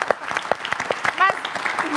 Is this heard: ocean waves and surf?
no